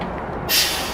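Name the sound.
bus air brakes releasing air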